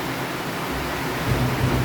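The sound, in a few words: heavy rain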